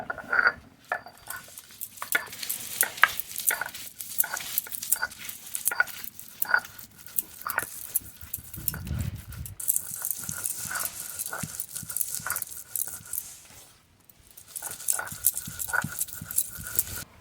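Fried spices are ground into a paste, heard as a steady rhythmic scraping and pounding with repeated close strokes continuing throughout, briefly pausing near the middle and again toward the end.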